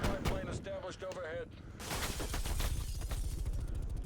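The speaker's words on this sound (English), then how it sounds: "Hold on, I'm getting shot at." Gunfire in Call of Duty Black Ops Cold War gameplay: dense, rapid bursts of shots that fill the second half, loud and continuous, following a stretch where someone talks over quieter game sound.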